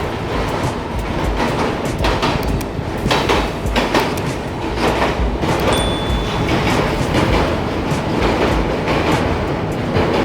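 A train rolls steadily across a river bridge near Nellore on a double track, with a loud, continuous rumble and rhythmic clattering of wheels over rail joints heard close by.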